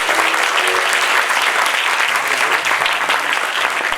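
Dense, sustained audience applause fills the hall at a contest program, loud and even throughout with no voices rising above the clapping.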